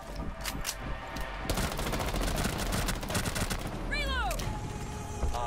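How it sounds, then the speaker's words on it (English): Gunfight in the shooter game Rainbow Six Siege: rapid bursts of automatic gunfire, loud and close, then a few scattered shots, with faint voices under the shooting. "That was the weirdest gunfight ever"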